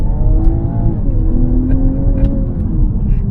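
A Toyota Supra's engine drones loudly and steadily close by as the car accelerates, with its tone slowly shifting while it pulls.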